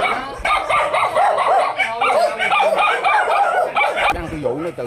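A pack of rescued dogs at a mushroom farm in Nhà Bè barks and yips nonstop, loud and close, in overlapping excited bursts, with a person talking among them.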